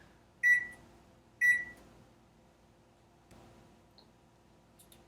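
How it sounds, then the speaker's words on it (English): A microwave oven gives two sharp electronic beeps close together, then settles into a faint, low running hum with a few soft clicks. "put these in the microwave for about 30 seconds or something like that"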